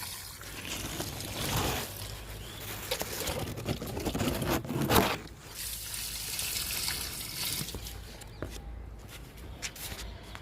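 Liquid fertilizer for a guava plant poured into a tin, a steady broadband trickle and splash running throughout with a brief louder gush midway, fairly close and with no talking.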